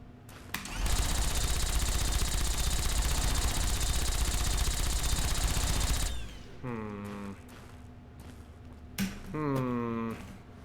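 Gatling laser from Fallout: New Vegas fires as a loud, dense, continuous buzzing burst lasting about five seconds, cutting off abruptly before quieter tonal game sounds follow.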